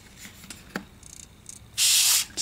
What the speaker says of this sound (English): So you're just gonna spray it just like that on one side, and then flip it over